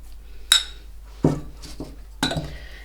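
Sugar and eggs being rubbed together in a bowl, heard as a few distinct clinks and scrapes of a utensil against the bowl, close and fairly quiet with pauses between strokes.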